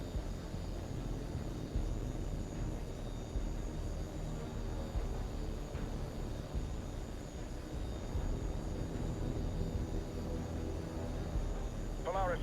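Jet aircraft engine roar from Tom Clancy's H.A.W.X. 2, a steady, dense drone holding at even loudness throughout, with a brief chirping radio or alert tone near the end.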